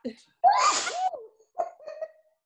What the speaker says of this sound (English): I sneezed in my elbow.